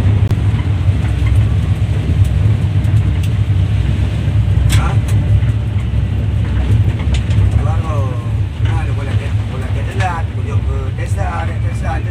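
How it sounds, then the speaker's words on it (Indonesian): Steady low road rumble and engine drone heard from inside a car on a night drive from Nagan Raya to Banda Aceh, with faint chirps and voices talking over the hum. "Ini dari dalam mobil ya, perjalanan malam."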